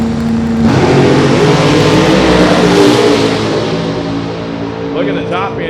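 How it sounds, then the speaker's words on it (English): A turbocharged drag car at a 275 small-tire drag meet revs hard before its pass, a loud sustained engine roar with rising pitch, joined near the end by a second higher whine, while an announcer talks over it. "Bringing the RPMs up, bumping in. See what the turbo car can do."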